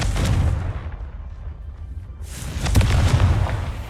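Blasting Confringo spell explosions in the game Hogwarts Legacy, heavy booming bursts that roll out loud, fade into a lull, then return with another rumbling barrage.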